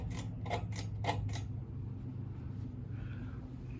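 A third-generation Charleston ceiling fan running at high speed gives a steady low hum with a faint mechanical creak, after a few short, sharp knocking sounds at the start, nearby and moderately loud.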